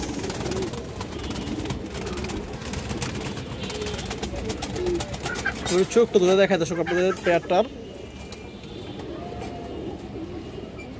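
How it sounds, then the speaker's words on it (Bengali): A pair of silver pigeons coos in a burst of warbling low calls midway, under someone talking nearby and amid background noise of a busy pigeon loft. "অনেক সুন্দর এক জোড়া কবুতর দর্শক"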